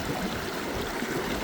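Water runs in a steady, even rush through a Geo Sluice Super Mini set level at a gold-digging spot in Fairplay, Colorado, with no voices.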